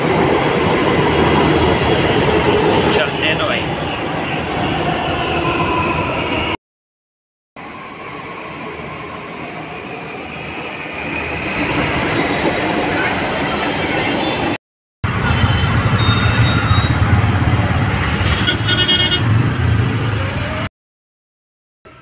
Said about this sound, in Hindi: तो ये मेट्रो आ चुकी है मेरी